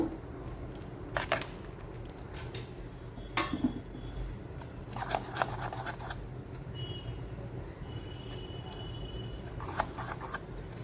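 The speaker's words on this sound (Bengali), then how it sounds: "ঠিক এখন ভালো মতো মিশিয়ে নেব" Food being stirred in a metal pot with a utensil, intermittent clinks and scrapes over a low kitchen background hum.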